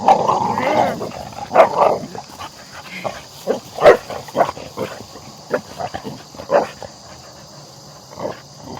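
A boxer dog barks repeatedly at close range in short, irregular bursts, some sharp and some muffled, with brief pauses between them.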